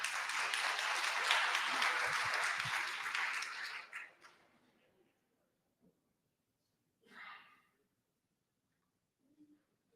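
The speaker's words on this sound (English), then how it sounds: "Y'all give her a round of applause." Audience applause at a reenactment of the 1963 Children's Crusade, a dense burst of clapping for about four seconds that quickly fades out, followed by near silence and a brief spoken sound.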